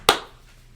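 One sharp hand clap, close and crisp, quickly fading into quiet room tone.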